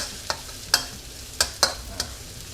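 Chili and garlic are stir-fried in hot oil in a pan, with a spatula giving five sharp taps against the metal over a faint, low frying hiss, close up and without voices.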